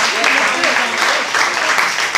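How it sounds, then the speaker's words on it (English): Audience applause at an end-of-program event, loud and close, a dense wash of clapping mixed with voices and shouts from the crowd. "Can we have a round of applause?"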